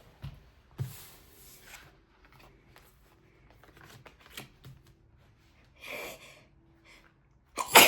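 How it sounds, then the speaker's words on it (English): Quiet rustling and soft breaths, then one sharp, loud sneeze bursts out close by at the very end. "Excuse me, I had to sneeze."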